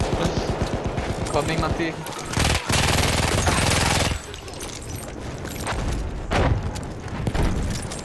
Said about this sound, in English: The MG15 makes a lot of noise